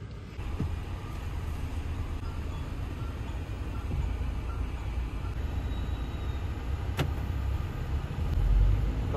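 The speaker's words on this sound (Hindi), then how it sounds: "आज हम चला रहे हैं महिंद्रा XUV 700" A Mahindra XUV700 automatic SUV on the move, a steady broadband road and engine rumble running without pause, with a faint brief click or two and no talk over it.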